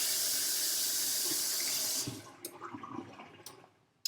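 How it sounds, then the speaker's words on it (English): A kitchen tap runs in a steady, full rush for about two seconds while hands are rinsed, then shuts off, leaving faint drips and small clinks. "I'm going to rinse my hands one more time."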